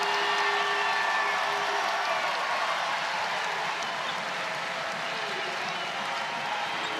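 An arena crowd at the NCAA women's basketball championship game between Tennessee and NC State roars and cheers for the Wolfpack, a sustained loud wall of noise with whistles and shouts over it.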